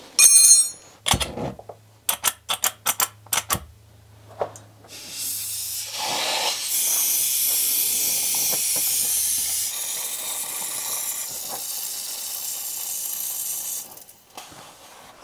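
A torch hisses steadily against a seized ball bearing during a repair, preceded by a cluster of sharp metallic clicks and knocks, the flame's broad roar holding for several seconds before easing off.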